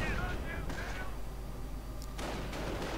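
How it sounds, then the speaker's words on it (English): StuG assault gun firing at gunners in a World War II strategy game, booming cannon shots and rumbling battle noise under a commentator's voice. "And Stu-42 firing away at the gunners inside there."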